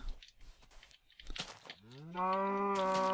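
A single cow moos in a jungle level of a video game, a low drawn-out bellow rising in pitch that rings out clearly near the end, after some soft crunching and rustling.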